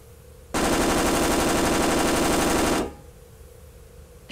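Rapid automatic gunfire in a video game aimed at a safe, a loud, continuous burst of about two seconds that cuts off abruptly.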